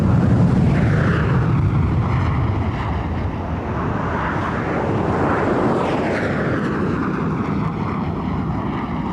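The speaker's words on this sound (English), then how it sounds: "the 6 Hunter F-56s taking off with the wreckage from the crash still smouldering in the background" Six Hawker Hunter F-56 jets of the Patrouille Suisse taking off at the 1993 International Air Tattoo, a loud, continuous roar of jet engines with buffeting wind noise from close range.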